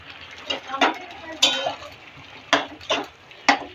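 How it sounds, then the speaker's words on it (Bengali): A spoon scrapes and knocks rhythmically in a pan as curry is stirred and mashed, about seven distinct clattering strokes at a steady pace, close and fairly loud. "এবার দেখুন তো বন্ধুরা, পছন্দ হয়নি তরকারিটা রান্না, একবারে ঘুটে দিচ্ছি"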